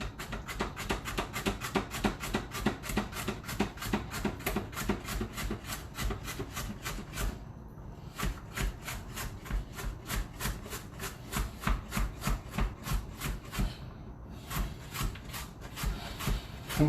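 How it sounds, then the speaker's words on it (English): Rapid, steady knife chops on a cutting board as food is cut into small strips, a regular run of close, crisp strokes with two brief pauses. "It's easier to cut into like strips like this and then cut it like widthwise"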